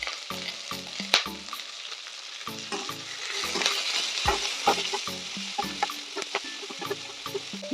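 Onions with salt fry in a pan for chilli parotta, a continuous close sizzle broken by repeated clacks and scrapes of stirring, with no talking.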